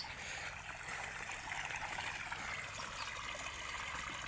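Irrigation water flowing through a farm field channel, a faint continuous rush and trickle heard steadily with no voices.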